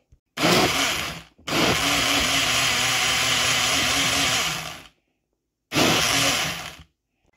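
A kitchen blender whirs loudly as it purées spinach into a banana cherry smoothie, running in two sustained bursts of about a second and three and a half seconds, then a short third burst after a pause.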